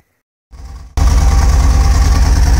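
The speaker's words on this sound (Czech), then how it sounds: "já vám teda ještě natočím motor, ať vidíte, jak teda to vypadá, když ten motor teda vynechává" A Mercedes M1 engine misfiring, running rough and uneven: a quieter start-up burst, then a loud close-up engine note with irregular low pulsing throughout.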